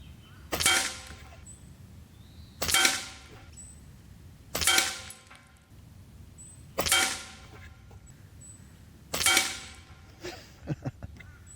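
An Umarex Origin .25 caliber PCP air rifle fires FX pellets at a target 34 yards away, five sharp cracking shots spaced about two seconds apart, followed by a few faint clicks.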